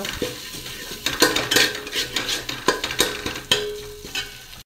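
A spatula scrapes and stirs ginger and green chillies frying in oil in a pan, with rhythmic metallic clinks over a soft, steady sizzle, close and clear with no talking.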